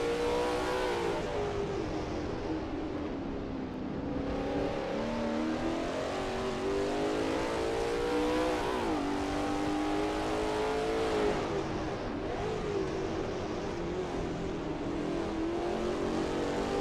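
A Lola T70 MkII Spyder race car roars around Brands Hatch GP in a racing video game, its engine note loud and sustained, rising and falling through gear changes and corners with no talk.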